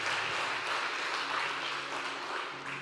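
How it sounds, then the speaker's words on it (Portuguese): A church congregation applauds steadily during a worship service, the clapping a dense, continuous wash from start to finish with no voices standing out. "Aplauda ao Senhor pela sua santa palavra."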